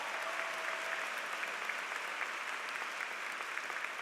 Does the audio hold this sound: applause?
yes